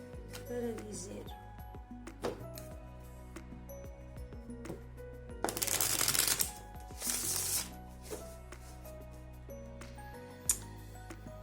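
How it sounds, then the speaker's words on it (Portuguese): Tarot cards shuffled by hand in two loud, dense riffling bursts, close up, with a voice talking throughout in Portuguese. "Eu vou baralhando conforme vou recebendo informação para continuar a baralhar e quando sinto que é para parar é que paro."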